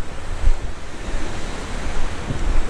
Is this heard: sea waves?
yes